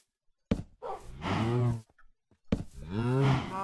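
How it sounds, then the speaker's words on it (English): Cows in the Minecraft video game give two long, low, drawn-out moos, close and clear, separated by a short pause, with no talking over them. "Look at all these cows."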